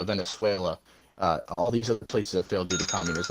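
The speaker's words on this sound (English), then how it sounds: "Excuse me, that's my alarm." A phone alarm rings faintly during a debate, its tones surfacing near the end beneath continuous speech from a man.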